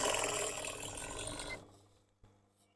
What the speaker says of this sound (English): I'm just going to start stitching it all in place now.